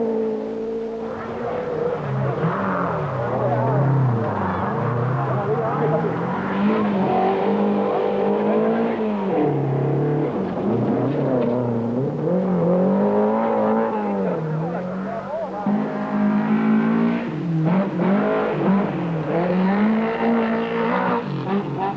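Rally cars from the 1973 1000 Lakes Rally, including Saab and Volvo entries, race past with engines revving up and down in repeated waves, loud and close, with a commentator faintly under the engine noise.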